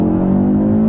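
Engine of a 2022 Audi RS3 while driving in traffic, a loud steady low hum with a prominent held tone, heard close and continuous without revving changes.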